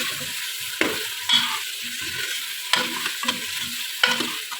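Small pieces of pumpkin sautéing in oil in a pan, hissing and sizzling while a spoon stirs them in several distinct strokes, close and clear with no talking.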